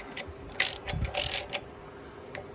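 Ratchet tightening bolts on a Gleaner R72 combine during separator clutch bearing work, a few quick clicking bursts of the pawl, faint and close, with pauses between strokes.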